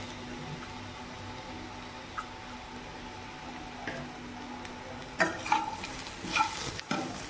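Black-eyed peas frying in a pan with a powder of dried red chillies, garlic, salt and cumin, a quiet steady sizzle that turns into louder stirring scrapes and clatters near the end.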